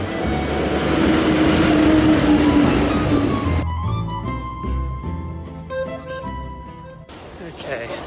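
Passenger train ride through Switzerland toward Zurich, with steady rumbling rail noise and a continuous low drone throughout, a faint whine early on, and talk heard over the ride.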